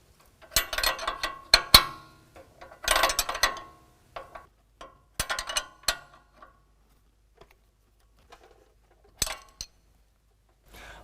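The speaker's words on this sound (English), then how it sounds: "take a 21mm wrench and put it on the end link nut and use a T47 Torx bit and hold that end link still and tighten down the end link" Metallic ratcheting and clinking of a 21mm wrench tightening an end link nut on a 2021 Ford F-150 during a leveling kit install, in several short bursts separated by quiet pauses.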